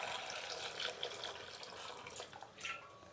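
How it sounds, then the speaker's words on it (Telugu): Cold water pours and splashes over boiled baby potatoes as they are drained, a quiet, close running-water trickle with small gurgles and drips. "ఇప్పుడు దీని నీళ్ళు వంచేసి మనం చన్నీళ్ళు పోయేద్దాం"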